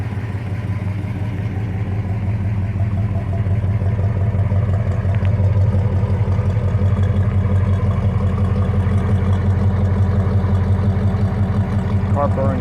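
A 1970 Dodge Super Bee with a 383 V8 idles loudly and steadily up close, a deep even rumble with a faint ticking of valve train noise running through it.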